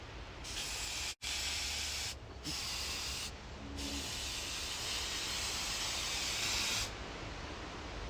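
Air filter oil sprayed from an aerosol can onto a motorcycle foam air filter, a loud close hiss that comes in several long bursts with brief pauses between them, and no talking.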